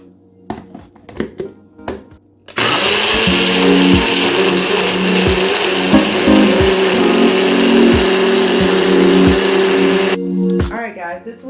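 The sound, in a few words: blender blending spinach and ginger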